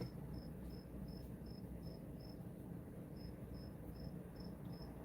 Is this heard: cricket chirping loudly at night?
yes